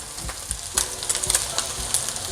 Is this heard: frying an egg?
yes